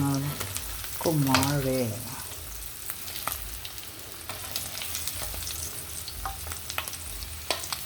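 Smoked fish (tinapa) frying in oil in a home kitchen, a continuous crackle with sharp spitting pops scattered throughout, while someone speaks briefly over it early on.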